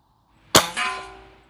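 A single shot from a Beeman 1042 .22 caliber break barrel pellet rifle fired outdoors, a sharp loud crack followed by a short metallic ringing decay, alone in quiet surroundings.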